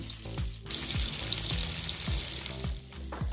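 Bacon and potatoes sizzle steadily as they fry and caramelize in a pan, a close, continuous crackle with occasional soft scraping and clinks.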